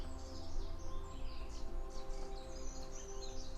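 Faint birdsong in a forest chirps and warbles over a steady low hum, several birds calling intermittently at a distance.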